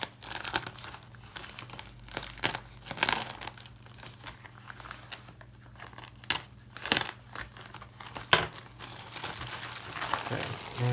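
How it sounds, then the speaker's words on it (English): Bubble wrap packaging around a parcel holding a Panerai-style wristwatch is crinkled and pulled apart, giving repeated close plastic rustles and crackles with brief sharper tearing bursts over a faint steady background hum. "Packaging bubble wrap seems pretty decent."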